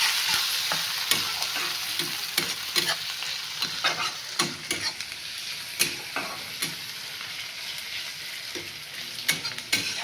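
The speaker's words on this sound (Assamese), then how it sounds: "তাৰপিছত দি দিম ইয়াতে কেঁচা জলকীয়া, ইয়াতে ফ্ৰাই কৰিম।" Raw green chilies frying in a hot pan with onions for a fish curry, giving a steady close sizzle broken by frequent sharp clinks of a spoon stirring against the metal.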